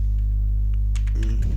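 Quick keystrokes on a computer keyboard while typing a Facebook business page welcome post, a close burst of rapid taps beginning partway through over a loud, steady electrical hum.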